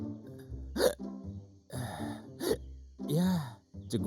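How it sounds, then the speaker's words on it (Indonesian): Cartoon hiccups in an Indonesian animated comedy set in a village: a voice produces several sharp, voiced hiccup gulps at uneven intervals, each a short squeaky catch, loud and close, with a cartoon voice-actor quality and no other talk. "Ya, cegukan lagi dah."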